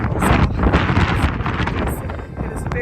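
Strong, cold wind gusts across a glass-walled rooftop viewing terrace in Paris, a loud, continuous buffeting roar battering the microphone throughout with no talking.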